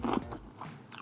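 A single crisp, crunchy bite of gluten-free fried chicken close to the microphone, a short crackling burst followed by faint chewing, with no talking.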